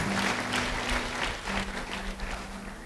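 A church congregation applauds during a sermon, a steady, moderate wash of clapping throughout with a low hum underneath and no speech.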